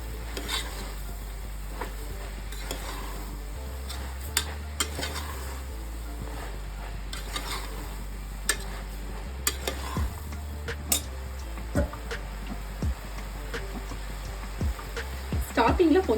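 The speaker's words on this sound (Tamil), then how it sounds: "எல்லாத்தையும் சேர்த்து ஒரு 2 மினிட்ஸ் இந்த மாதிரி சாட்டே பண்ணி வச்சுக்கோங்க" Spice mixture being sautéed in a pan for Karnataka-style sprouts saaru: repeated scraping and tapping stirring strokes over a soft, continuous sizzle and a low background hum.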